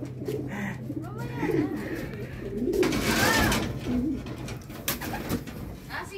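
Racing pigeons coo repeatedly at close range in a loft after a race, soft rolling calls layered over a low hum, with a louder rustle of movement near the middle.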